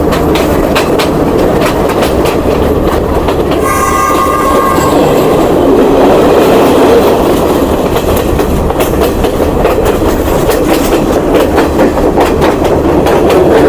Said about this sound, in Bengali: চমৎকার ট্রেন জার্নি।